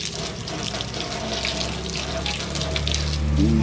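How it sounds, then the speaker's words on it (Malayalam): Tap water runs steadily while a brass oil lamp is rinsed under it, a close, continuous splashing wash with no voices. "ഇനി നമുക്ക് വെള്ളം ഒഴിച്ച് കഴുകാം."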